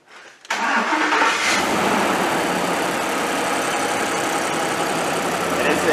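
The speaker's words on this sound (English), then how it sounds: "Let me start this thing up and show you what it sounds like." Custom Woodie car engine cranking briefly and then catching, settling into a loud, steady, rumbling idle close by that runs to the end.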